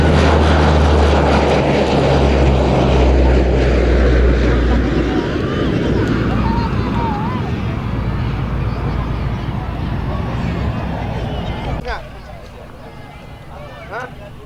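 Engines of a Hercules transport aircraft run with a loud, close, steady roar and deep low drone that eases slightly and drops off near the end, with faint voices underneath.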